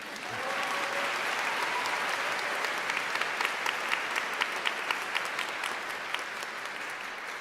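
Applause swells from an audience at a high school convocation ceremony, rising quickly into sustained clapping with sharper individual claps standing out, then easing slightly toward the end.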